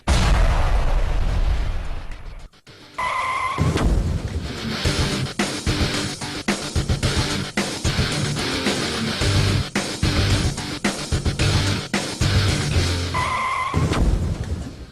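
A road crash between a car and a motorcycle on traffic footage, with a sudden loud impact, scraping and skidding noise, and a dense roar of road sound, cutting in sharply after a brief drop.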